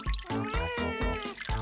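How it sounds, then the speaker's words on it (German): A baby cries in a video game with loud, repeated wailing bursts in a steady rhythm, close and continuous. "Bitte weine nicht so laut."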